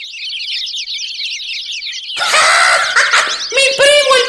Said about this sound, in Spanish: ¡Mi primo, el pajarito!